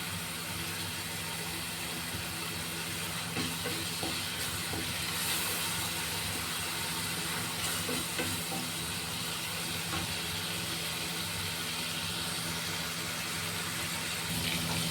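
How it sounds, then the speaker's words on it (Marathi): Dhaba-style chana masala spices sauté in a pan with a steady, dense, loud sizzle and hiss that runs unbroken throughout. No one speaks. "आणि चांगलं परतू द्यायचं, कारण हा मसाला कच्चा राहत नाही"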